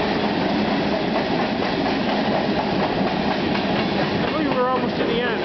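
A CN freight train rolls past at Bayview Junction, its cars, including a Union Pacific hopper, making a loud, steady rumbling clatter close by as someone speaks briefly over it.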